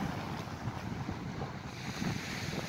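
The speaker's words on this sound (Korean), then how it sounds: "겨울바다에 파도소리만 세차게 들리고 있고 찬 바람소리만 이렇게 들리고 있습니다" Steady broadband rush of winter surf and cold gusting wind at Beolcheonpo Beach, Seosan, Korea, continuous and fairly loud with no voices, like an open, blustery shoreline.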